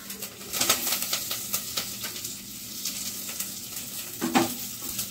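Garlic fries in a small amount of oil in a pan, giving a soft, continuous sizzle close by. Light stirring clatter sounds now and then, with no talking.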